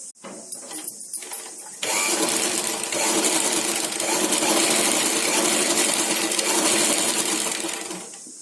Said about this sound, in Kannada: ಈ ಸೈಡ್ ಇಂದ ಅಷ್ಟೇ ಸ್ಟಿಚ್ ಮಾಡ್ಕೊಂಡ್ ಬರ್ತಾ ಇದೀನಿ